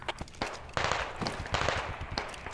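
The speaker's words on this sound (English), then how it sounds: "I'm gonna shoot a frag." A quick series of sharp, close blasts and cracks from a frag grenade fired in the game Squad, several loud bursts in rapid succession.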